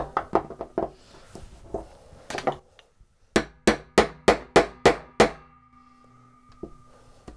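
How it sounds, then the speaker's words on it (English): Sharp metallic hammer strikes ring out, first scattered, then a steady run of about eight evenly spaced blows, followed by a couple of lighter taps. "And we're going to hammer one more time."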